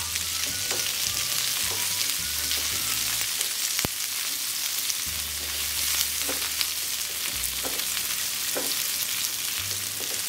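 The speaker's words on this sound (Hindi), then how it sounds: "जिंजर, गार्लिक, एक मिनट अच्छी तरह से फ्राई कर लेती हूँ।" Ginger and garlic fry in a pan with a steady close sizzle, broken by the scrape and clink of stirring and occasional louder spits.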